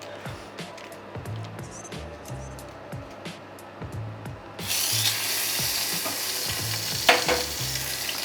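Meat drops into hot rapeseed oil halfway through and a loud, steady sizzle takes over, following a few seconds of quieter kitchen clatter and scraping.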